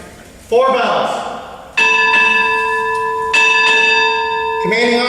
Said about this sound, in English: 4 bells